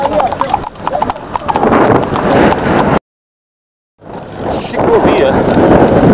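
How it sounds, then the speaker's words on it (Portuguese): A horse's hooves clip-clop steadily on a paved bike path, close and loud with wind noise, cutting out briefly before the hoofbeats resume. "Tem até cavalo na ciclovia."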